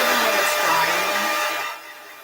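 A hair dryer blows on a freshly painted canvas to speed its drying, a loud, steady, breathy whir that holds close by and then drops a little in level near the end.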